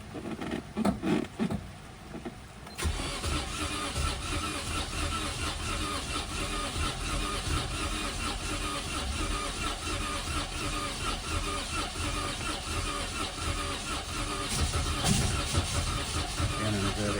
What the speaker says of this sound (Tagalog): nakailang cranking na nga tayo, ayaw umandar